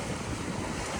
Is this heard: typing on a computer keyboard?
no